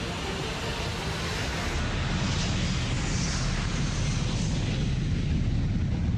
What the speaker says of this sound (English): Malaysia Airlines Flight 370 leaves the runway